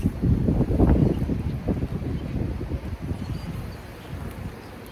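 Wind gusting across an outdoor microphone during a springtime beehive inspection in Jefferson City, a loud low rumble that surges early and then settles into a steady, slightly softer buffeting.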